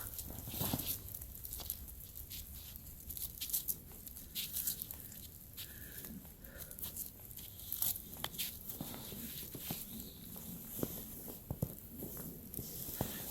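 Real Steel Bushcraft II knife with a D2 steel blade cutting through material, a faint scattered series of scraping, tearing slices and small taps, quiet and close, with no talking.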